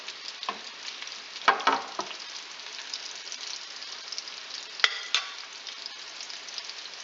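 Small rollatini pieces fry in a pan, a few at a time, in hot oil with a steady crackling sizzle and a handful of sharper pops and spatters standing out clearly.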